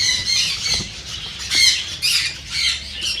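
Pet birds for sale in a new aviary squawk loudly and repeatedly in harsh, close bursts that overlap one another, with no talking.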